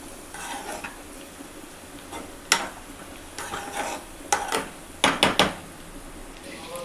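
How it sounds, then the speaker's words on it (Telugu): A spoon scrapes and stirs ginger garlic paste around a cooking pan over a soft sizzle, with several sharp clacks of utensil on metal toward the end. "ఇప్పుడు కొద్దిగంత అల్లం వెల్లుల్లి పేస్ట్ వేసి ఒకసారి కలుపుకోవాలి."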